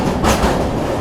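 A MEMU train rolls across an arch bridge, a loud, steady rumble of wheels and carriages filling the whole second with no let-up.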